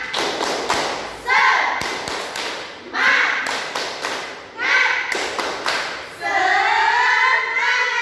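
Classroom of second- and third-grade children doing the tepuk semangat clapping chant: bursts of rhythmic claps and thumps alternate with chanted voices in a steady repeating pattern, ending in a longer sung phrase.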